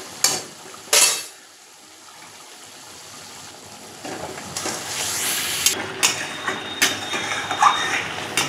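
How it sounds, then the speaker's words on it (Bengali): Spices being stirred and fried in oil in a pan for a Bengali fish curry, with soft sizzling and scraping broken by a few sharp clinks of a utensil against metal, moderately close, no talking. "এইবারে ভালো করে মশলাটাকে আমি কষিয়ে নিচ্ছি"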